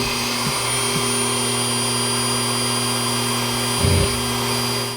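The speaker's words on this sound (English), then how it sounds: "Now when I drill, that drill will hit the other hole just perfectly." A drill bores a hole through a rock, giving a steady, loud whining drone with constant tonal hum and a brief heavier grind near the end.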